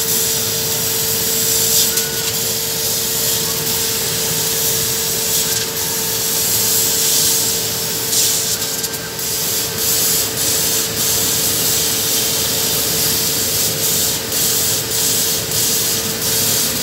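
A 100 W laser cutter slices 3 mm white MDF Easter egg shapes while a 550 W exhaust fan and 135 W air compressor run, producing a steady loud whooshing roar with faint ticking and hissing throughout, no talk.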